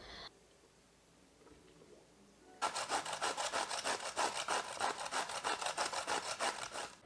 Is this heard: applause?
no